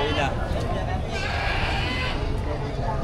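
Goats bleat amid a busy crowd at a livestock market in Padre Garcia, Batangas, their calls rising over a constant murmur of nearby voices and chatter.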